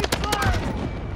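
Rapid bursts of gunfire from Call of Duty: Modern Warfare crackle in quick succession over a dense, rumbling battlefield backdrop, with a voice faintly mixed in.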